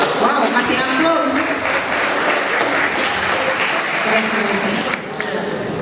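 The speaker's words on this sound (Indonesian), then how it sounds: "Wow, kasih aplaus." Audience at a 2024 alumni reunion of SMK Budhi Warman II in Jakarta bursts into sustained, loud applause with a crowd's dense clapping that carries steadily through the whole stretch, with voices mixed in.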